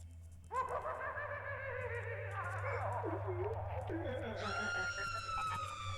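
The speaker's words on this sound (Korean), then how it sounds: "여자의 비명 소리가 들렸다." A woman's drawn-out scream from the video game Angelic Syndrome, wavering and shrill, rising to a higher, harsher cry near the end, loud over a low steady background hum with no talking.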